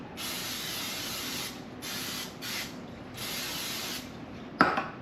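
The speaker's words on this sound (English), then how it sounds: "spray it with a little non-stick spray." Several bursts of hissing non-stick cooking spray into a Dutch oven, close and steady, with short gaps between them, then a brief clatter at the end.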